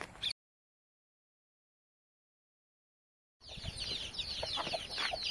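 Chickens clucking on a farm, a brief burst at the very start, then after a silent gap a dense, close stretch of clucks and fowl calls continuing to the end.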